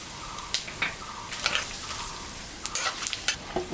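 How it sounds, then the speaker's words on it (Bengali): Dry chillies, cumin, whole garam masala and bay leaves crackle and sizzle in hot mustard oil in a pan, with irregular sharp pops and spatters over a steady frying hiss. "শুকনো লঙ্কা, জিরা আর গোটা গরম মশলা সম্বরা দিলাম, কটা তেজপাতাও দিয়ে দিলাম।"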